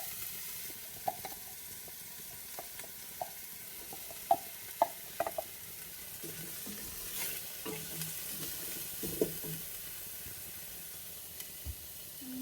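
Chili sizzles and fries in a pan for a spicy Italian mussel soup, a soft continuous crackle broken by scattered clicks and scrapes of stirring, close by and without talking.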